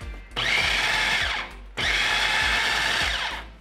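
Food processor pulsing a salmon burger mixture with chopped dill, salt and pepper: two loud motor bursts of about 1.3 seconds each, with a short pause between them and no talking.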